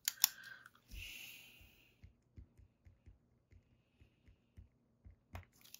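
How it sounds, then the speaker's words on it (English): Stickers are peeled off planner paper, with a short papery rip followed by a run of small, sharp ticks and clicks at an uneven pace, close and quiet. "Can you guys hear how stuck these stickers are to my paper?"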